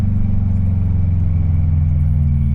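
A 2011 Subaru WRX with the EJ engine idling on launch control before setting off, a loud, steady low rumble with even pulsing, close and without talking.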